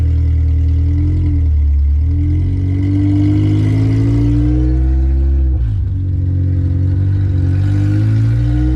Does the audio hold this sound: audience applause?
no